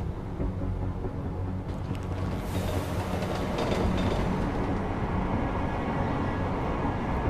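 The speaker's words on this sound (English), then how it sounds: "this train ride could last for 4 minutes" Train ride in the Deus Ex: Mankind Divided video game, a continuous loud rumble and rattle of rail cars with a rushing whoosh swelling briefly near the middle.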